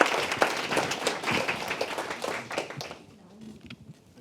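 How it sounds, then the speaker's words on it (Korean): Audience applause at a Korean public education forum, a dense burst of clapping that thins out and fades after about three seconds into near quiet. "다시 한번 뜨거운 박수를 맞이해 주십시오."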